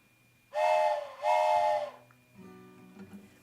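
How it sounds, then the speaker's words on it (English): Toy train whistle blown by a performer during a live set: two loud sustained chord-like hoots rise out of quiet, followed by faint hum and other instrument tones. "gives me an opportunity to use my train whistle"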